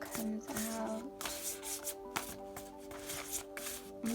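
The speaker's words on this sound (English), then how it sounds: "I'm not the best shuffler, you can tell, but I'm trying" Homemade oracle cards shuffled by hand at close range, a run of soft riffling and slapping card sounds with uneven rhythm over a faint steady background tone.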